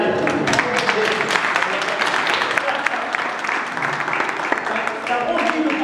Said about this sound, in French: Vous pouvez les applaudir, les jeunes